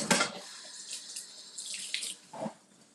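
Tap water runs into a kitchen sink as hands are washed, a steady close splashing stream with shifting spatter and a brief louder gush near the end, no voices.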